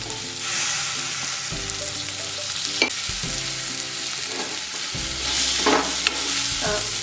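Tomatoes fry with onions in a pan for a potato masala curry. A steady close sizzle runs throughout, and intermittent stirring scrapes and clinks cut through it with no talking.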